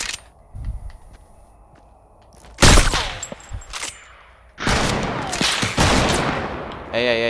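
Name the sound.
gunfire in a video game shooter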